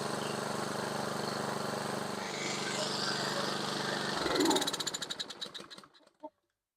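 A Briggs and Stratton engine on a Toro Recycler lawn mower idles with a steady, close, rough drone, then shuts down and sputters through a few fading pulses into silence.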